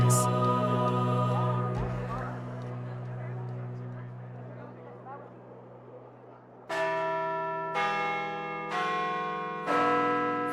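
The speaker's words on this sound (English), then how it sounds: "Rising above Centre Block is the iconic Peace Tower, with its chorus of bells." Peace Tower carillon bells on Centre Block, Parliament Hill, Ottawa, ring loud and sustained, their long overlapping tones fading before a fresh series of strong, evenly spaced strikes rings out.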